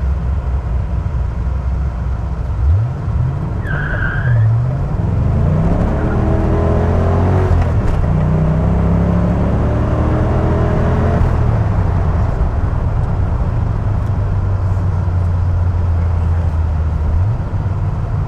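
A Ford Mustang drives along a road, its engine droning loudly from inside the car as the revs climb and fall through several gear changes, then settle into a steady cruise.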